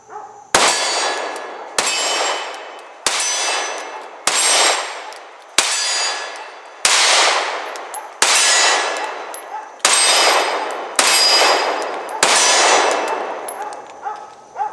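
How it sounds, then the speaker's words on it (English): Pistol shots from a Sig P320 Compact strike a steel silhouette and an 8-inch steel gong, about ten loud, evenly spaced clangs, each ringing out and decaying before the next impact. "I'm going to do a little bit of alternating between my steel silhouette and my little 8-inch steel gong over there"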